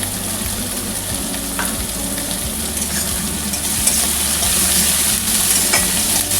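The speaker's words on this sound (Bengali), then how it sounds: "সামান্য একটু নুন দিয়ে এবার আমি পেঁয়াজগুলোকে ভালো করে ভেজে নেব" Finely chopped onions fry with a little salt in a pan, giving a loud, constant close sizzle with stirring scrapes throughout.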